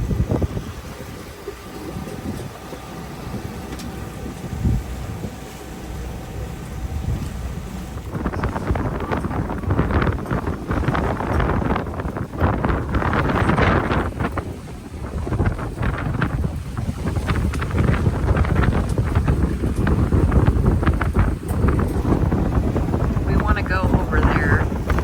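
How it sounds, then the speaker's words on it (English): Roughly 15-knot wind buffets a sailing boat leaving La Paz, Mexico, as loud, continuous microphone rumble and rushing air with water noise, growing heavier partway through; a voice speaks briefly under it. "Current and like a 15 knot wind."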